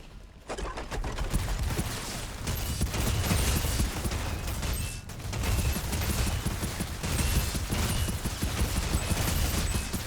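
Sustained rapid pistol fire in the video game Outriders, dense overlapping shots and combat noise running loud and continuous with a brief lull midway.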